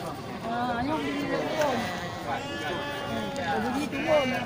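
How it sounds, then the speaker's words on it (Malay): Male sheep bleat at a livestock market before Maulid, several wavering calls rising through a crowded, chattering scene with someone talking over them nearby. "Untuk pembelian domba-domba jantan kategori domba untuk kenduri Maulid."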